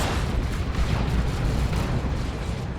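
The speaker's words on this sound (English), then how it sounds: "Decent plasma cannon hit." A plasma cannon strikes amid a battle in the Dawn of War 2 strategy game, heard as dense, continuous low rumbling and booming explosion noise that holds steady for the whole stretch with no pauses.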